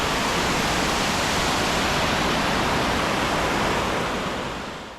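A waterfall at a swimming hole runs full after days of constant rain, a dense, even roar of falling water that holds steady and eases off slightly near the end.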